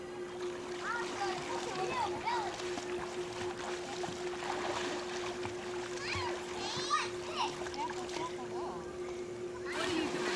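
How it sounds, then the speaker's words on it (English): A child splashes through water while swimming across a pool, with steady light splashing and a voice chattering over it, a constant hum underneath. "This is my swimming across the pool."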